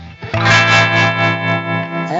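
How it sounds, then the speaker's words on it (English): An electronic acoustic guitar played through chorus and distortion effects rings out as one loud, sustained, wavering chord that swells and shimmers for about two seconds before a short pick noise at the end. "you can add chorusing or distortion"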